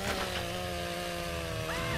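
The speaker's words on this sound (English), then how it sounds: "Chainsaw!" Chainsaw revving in the Broforce video game, a steady buzzing engine whine held loud and close for about two seconds over busy game noise.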